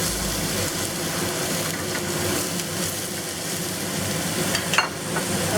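Pork loin strips stir-fried with green onion in a hot wok make a steady close sizzle and crackle with occasional stirring scrapes and a brief clatter near the end.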